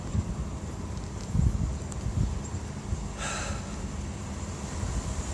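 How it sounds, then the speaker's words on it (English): Gusty wind buffets the microphone with low rumbling bursts outdoors on the University of Minnesota campus, steady and fairly loud throughout, with no voices. "it's too windy"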